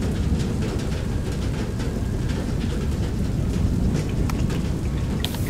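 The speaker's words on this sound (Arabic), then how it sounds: "هذا شتا مع اعصار." Heavy rain and thunderstorm in the video game Far Lone Sails: a constant roar of downpour with deep rumbling thunder underneath and scattered sharper raindrop hits, loud and continuous with no voices.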